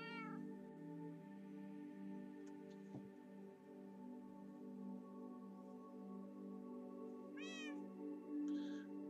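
A Minecraft cat meows twice, a faint rising cry at the start and a clearer one near the end, over a quiet bed of steady tonal game music.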